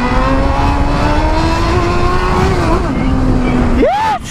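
A Honda Hornet motorcycle without a catalytic converter idles loudly up close with a steady harmonic drone, then gives a sharp rising rev near the end as the engine climbs and drops.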